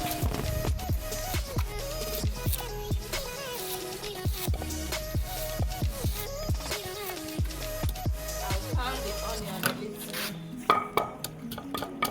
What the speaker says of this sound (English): I will pound my pepper